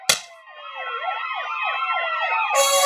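A town fire brigade siren wails loudly in a steady rising and falling cycle, opening with a sharp burst and continuing up close with no speech over it.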